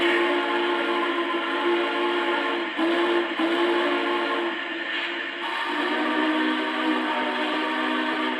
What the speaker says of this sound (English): here is the smoking whistle